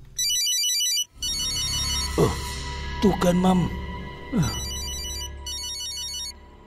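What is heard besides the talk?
mobile phone ringing in a cartoon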